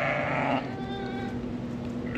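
Sheep bleat in a lambing barn, a loud, close, wavering call lasting most of the clip over a steady low barn hum.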